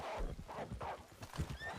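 Horse in a western game neighing, a whinny set against clip-clopping hooves over a brief stretch, close and clear with no speech heard.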